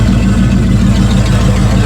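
A 1937 Ford pickup truck engine runs steadily up close, a loud, continuous low rumble with a faint pulsing throb throughout.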